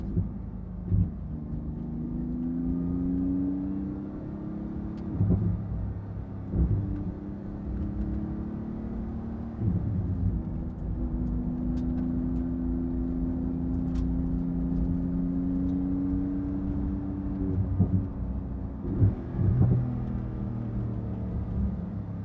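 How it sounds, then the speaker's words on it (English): A Porsche GT2 RS sports car's deep exhaust rumbles and burbles steadily, with throttle blips and crackling pops and gurgles scattered throughout, fairly close. "you crack that throttle and you can hear the popping and gurgling from the exhaust"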